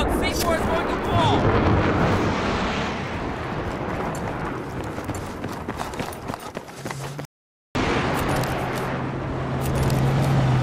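A C4 explosive detonates in the Battlefield 3 video game with a loud, rumbling blast amid the roar of battle, followed by a sudden cut to silence and a return of heavy low rumbling; voices shout over the chaos.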